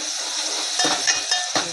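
Amti masala made with whole masoor lentils, tomato and onion being stirred in a pot: a few quick metallic scrapes and clinks of a spoon against the vessel over a faint background hiss.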